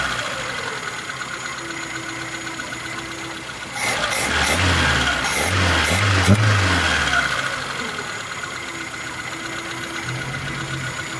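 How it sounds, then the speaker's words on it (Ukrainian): A Lada Niva engine fitted with a Solex 073 carburetor idles while warming up, then revs up for a few seconds with a rising roar and settles back to a steady idle, loud and close. "Зараз ще раз прогріється машинка повністю карбюратор прогріється"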